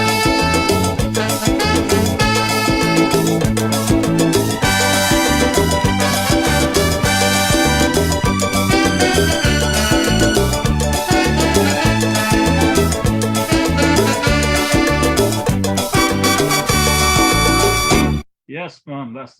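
A recorded calypso song plays loud and full with a driving beat and layered instruments, cutting off abruptly near the end, where a brief voice follows.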